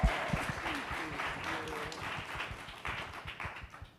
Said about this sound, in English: Can we just give Marcy a round of applause?